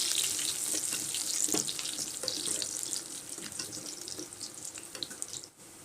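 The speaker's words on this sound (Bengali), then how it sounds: "প্রথমে পানি দিয়ে দিচ্ছি।" Water pours from a tap into a cooking pot of browned garlic, bay leaves, cardamom and cinnamon. A close, steady rushing splash runs for several seconds, then thins and fades out near the end, with no talk.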